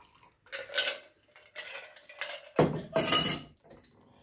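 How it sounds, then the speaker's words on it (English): A Manhattan cocktail is strained off the ice into a chilled Nick and Nora glass, giving several soft bursts of ice clinking and rattling against metal and glass, with brief quiet gaps between them and a louder pour near the end. "We're going to strain the ice."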